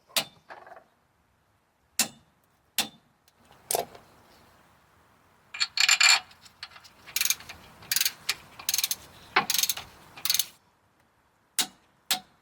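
Clicking torque wrench tightening bolts in a crisscross pattern on a vehicle's differential cover, heard as sharp isolated clicks separated by quiet gaps, then a busy burst of ratcheting and clicks in the middle, close and clear.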